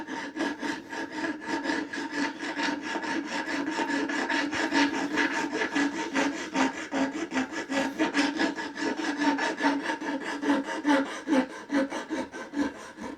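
A hand saw under tension cuts into wood while a guitar string guide is made, a steady close back-and-forth rasp of quick, even strokes that carries on without pause and with no voices.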